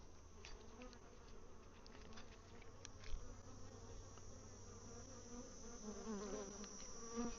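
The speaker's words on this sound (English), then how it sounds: "there are a lot of bees in here" Dense, steady buzzing of many bees inside an open hive during a mite wash, a close continuous drone with individual wingbeats rising and falling, no talking.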